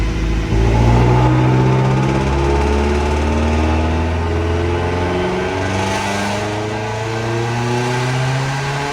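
A Subaru STI engine revs steadily on a dyno toward 7,000 rpm, its loud, sustained drone climbing in pitch, with strong harmonics rising smoothly over about eight seconds.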